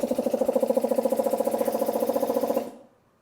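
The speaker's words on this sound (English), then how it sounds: "For some reason, the air compressor doesn't want to compress air." A struggling air compressor chugs in fast, even pulses, loud and close, for about two and a half seconds before it abruptly cuts out into silence.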